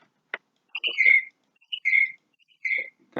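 Cartoon bird sound effect from a Scratch programming project: a short click followed by three bright, whistled chirping phrases spaced about a second apart, clear and alone with no talking.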